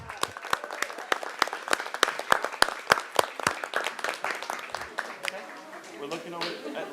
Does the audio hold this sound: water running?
no